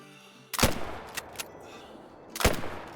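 Two sharp rifle shots aimed at a fox in a hunting video game ring out about two seconds apart, each loud and close with a quick decaying tail, plus a fainter crack or two between them.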